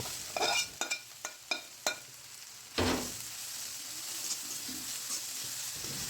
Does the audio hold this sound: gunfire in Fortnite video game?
no